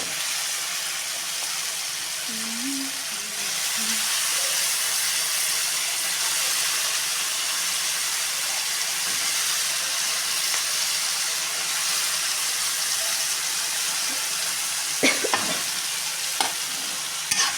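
Potato and cauliflower pieces fry in a pan for a curry, a loud continuous sizzle close by with stirring scrapes and a few sharp utensil knocks near the end; no talking.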